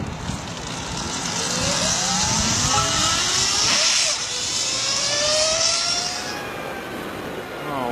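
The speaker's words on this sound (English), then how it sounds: "we took the LS-218 up to the Skyline Road so I could let her rip" An LS-218 electric motorcycle at full throttle on a mountain road, a loud rising whine that climbs in pitch and holds steady with rushing wind noise, continuous for several seconds.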